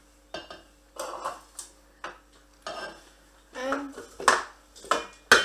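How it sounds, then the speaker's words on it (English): A spoon taps and scrapes against the rim of a mixing bowl while cake batter with egg is cleaned off it, a series of sharp clinks and scrapes close up, with a voice speaking in between. "scrape off your spoon, get everything, all that lovely goodness"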